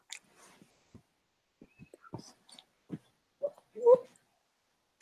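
A dog in a quiet room whimpers and whines in short, soft bursts with gaps between them. A louder, higher whine comes near the end, close and otherwise alone.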